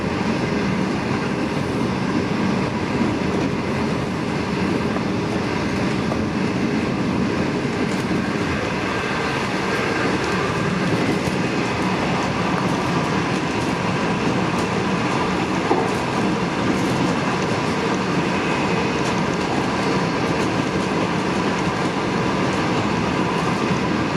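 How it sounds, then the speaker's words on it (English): A V/line train headed by locomotives N475 and N465 rumbles steadily at Geelong with constant rail noise and a clickety-clack of wheels. The din is loud and continuous, with no voices. "it's N475 leading, it's N465 as the second locomotive"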